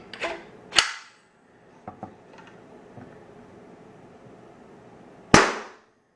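Sharp, loud cracks from a Nerf Rival launcher at 150 psi: two quick shots at the start, a few faint ticks and clicks, then one more strong close report near the end. No voices.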